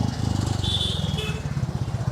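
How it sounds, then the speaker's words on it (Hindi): Royal Enfield Standard Bullet 350 from 2023 pulling under throttle, its engine a steady low thump with a rapid even rhythm, close and fairly loud, with a faint higher whine riding briefly over it. "अब मैं थ्रॉटल दूंगा तो भाई बाइक पुल होती चली जाएगी ये।"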